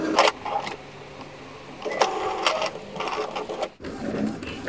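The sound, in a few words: Epson L series printer printing a nozzle check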